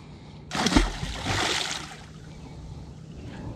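A caught catfish released back into the water while trolling with cut bait, one brief splash and slosh close by, followed by quieter lapping water.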